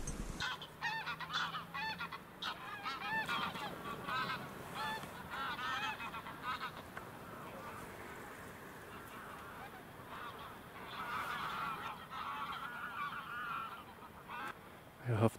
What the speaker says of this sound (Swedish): Gäss ovanför oss.